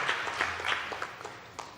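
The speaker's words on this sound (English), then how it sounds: "Please give them a round of applause." Audience applause at a plenary session honoring the pioneers of a Victim and Witness Support Unit: a brief patter of scattered claps in a hall, moderately loud at first and thinning out, with no talk over it.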